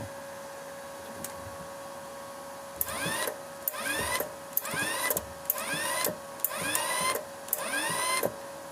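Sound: Edon Smartmig-325 welding machine running after repair

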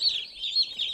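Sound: hatchery chicks, ducklings and turkey poults chirping

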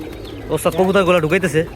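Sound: pigeons cooing

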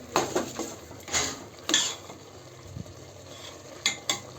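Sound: stirring sweet rice with masala and sugar in a pot

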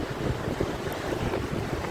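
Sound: waterfall after rain

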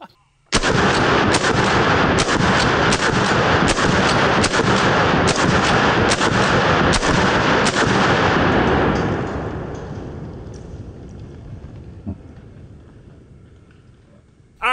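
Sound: gunshots from Benelli M4 clone shotguns

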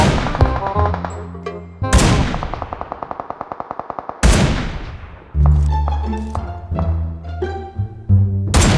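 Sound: sniper rifle gunfire in PUBG Mobile video game

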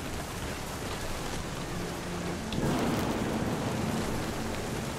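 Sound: thunder and rain in video game What Remains of Edith Finch

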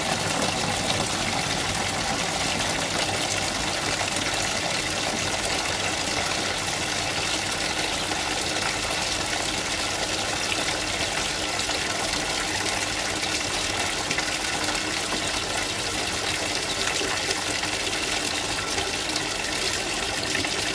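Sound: hot water running from a boiler tap

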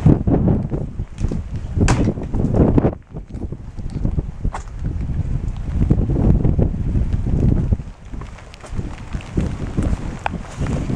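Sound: wind

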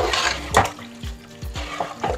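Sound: water being poured into mutton for biryani

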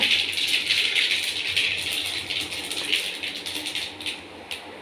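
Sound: mustard seeds popping in hot oil

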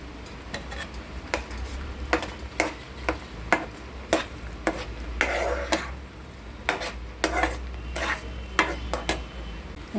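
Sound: stirring semolina sheera with banana and dry fruits in pan

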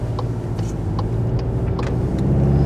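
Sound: Seat Leon Cupra R ST car starting to roll off

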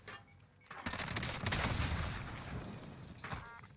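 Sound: gunfire in video game Call of Duty Warzone, Rebirth Island

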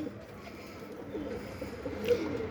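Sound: bird cooing

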